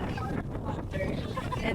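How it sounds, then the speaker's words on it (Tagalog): Strong wind buffets the microphone outdoors on a hike in Dingalan, Aurora, a steady loud rushing roar filling the short moment with a voice faintly under it. "Grabe guys, sobrang lakas ng hangin dito."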